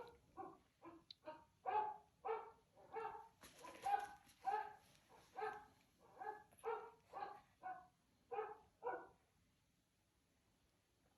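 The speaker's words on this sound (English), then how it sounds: "A basset hound goes." A recording of a basset hound barking plays a long run of deep, howling barks in a steady rhythm, about a dozen in a row, fairly close and clear, before trailing into quiet.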